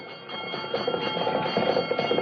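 A fire engine bell clangs steadily and repeatedly, close by, with a continuous metallic ringing and some rumbling noise underneath.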